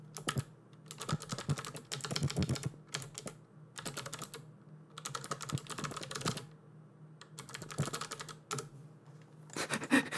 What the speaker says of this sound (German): Ich schreibe mal rein.